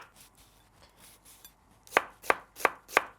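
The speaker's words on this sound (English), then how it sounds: "So 1 onion that I'm going to finely slice." A knife finely slices an onion on a cutting board: four crisp, evenly spaced chops ring out close and clear after a near-silent stretch, with no voices.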